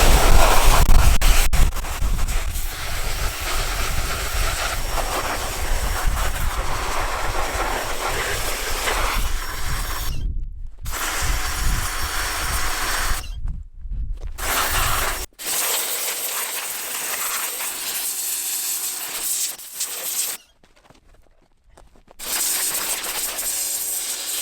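A sprayer blasts water into the nasal cavity of a bull elk skull, a loud, continuous hissing rush that cuts out abruptly several times before resuming.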